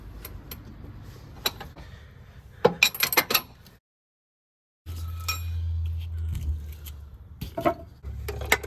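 Open-end 21mm wrench working a front lower control arm bolt on a 1994-2004 Ford Mustang, giving sharp metallic clinks and ratcheting clicks in bursts, close up, with a pause of silence and a low hum of a shop in the background.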